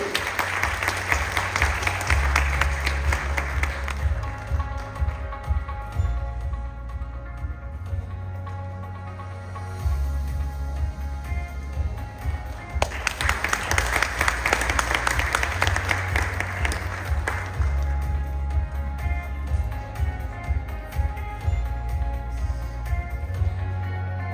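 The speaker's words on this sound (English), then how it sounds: "With a big round of applause, certainly." A conference audience at a leadership and women's awards event gives a long, steady round of applause, fairly loud and continuous, with background music playing underneath throughout.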